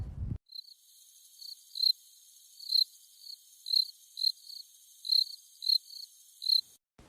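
High-pitched insect chirps in short bursts, about a dozen evenly spaced pulses over a faint steady trill, close and clear with no voices.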